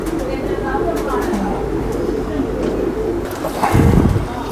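Pigeons coo close by in a loft of Indian pigeons, soft low repeated calls, while someone talks over them and a louder flutter rises near the end.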